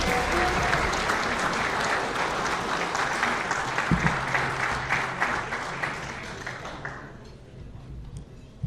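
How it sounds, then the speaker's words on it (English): Sustained applause from an audience at a Long Beach City College Hall of Champions induction ceremony, a dense wash of clapping that holds steady for several seconds and then fades out. "Let's give another round of applause for Miss Sia Cobb."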